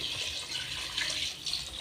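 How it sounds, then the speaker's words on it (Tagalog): Water pours steadily into a cooking pot holding squash and taro in a continuous splashing rush, close and fairly loud, with no voices. "lagyan na to ng tubig"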